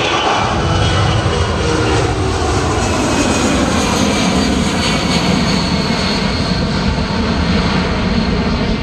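Warbird airplanes flying at a local air show, a loud continuous propeller-engine drone that holds steady without pause.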